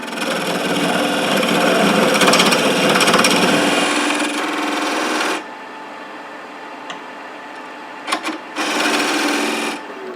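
A parting tool cuts into cherry burl spinning on a wood lathe, a loud steady scraping whine for about five seconds that drops to a quieter hum, followed by a couple of brief knocks and a second short burst of cutting.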